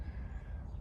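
A crow cawing outdoors in a backyard, a brief faint call against a quiet low background hum.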